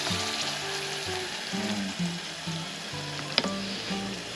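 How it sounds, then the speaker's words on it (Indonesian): Spices for balado sautéing in a hot pan, a continuous close sizzle and crackle with occasional stirring scrapes and one sharp clink partway through, no voices. "Tumis heula sina layu."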